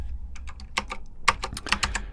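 Typing on a computer keyboard: a run of crisp, irregular key clicks close up, over a low steady hum, with no voices.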